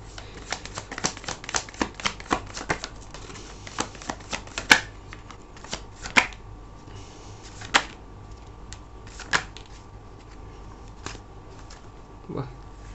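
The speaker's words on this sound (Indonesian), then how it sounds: "Oke, aku akan ambil 5 kartu lagi ya." Tarot cards are shuffled and handled in rapid riffling bursts, close and crisp, with several sharper snaps of cards landing or being drawn over a quiet room background.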